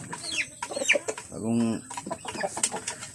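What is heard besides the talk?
chickens clucking in a coop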